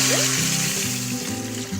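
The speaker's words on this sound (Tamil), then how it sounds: "இப்போ நம்ம ஊற வச்சிருக்க அரிசி பருப்பை இதுல சேர்த்துக்க போறோம்" Soaked rice and lentils in their water pour into an Instant Pot for ghee ven pongal, a close, continuous splashing pour lasting under two seconds, without voices.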